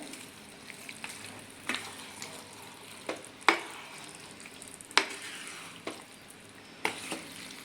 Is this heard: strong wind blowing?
no